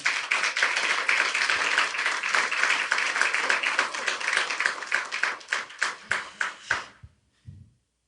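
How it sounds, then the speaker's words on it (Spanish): A church congregation applauds together in sustained, dense clapping for several seconds, then the claps thin into a few scattered final hands before falling silent. "Denle un aplauso al Señor."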